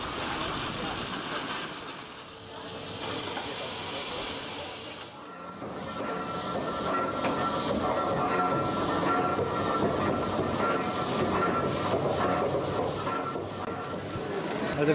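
An H0 scale 1:87 model railway train runs at a model railway show, a continuous dense rolling rumble with hiss and faint clicking, steady and fairly loud throughout.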